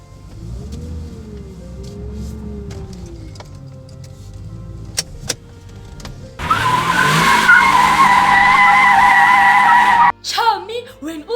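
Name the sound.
car driving home, cartoon sound effect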